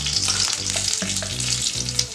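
Ghee sizzles steadily in a hot pan, a dense continuous crackle, close and fairly loud, with faint low hum beneath and no voices.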